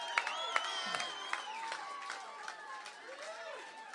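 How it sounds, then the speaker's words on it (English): A crowd at a brewery battle-of-the-bands contest during Portland Beer Week claps, cheers and whistles, with bright shrill whistles rising over steady applause that gradually fades toward the end. "we had a crowd and they applauded"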